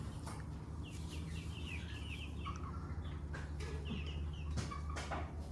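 Young backyard chickens cluck and chirp in short repeated calls, fairly close, over a constant low hum in the background.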